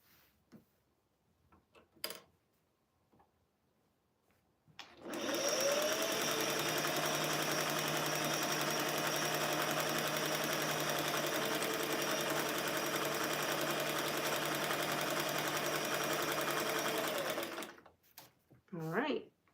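A sewing machine fitted with a bigger needle stitches a flannel rag quilt with batting, running in one long, steady, loud whirring burst after a few quiet handling sounds, then stopping abruptly.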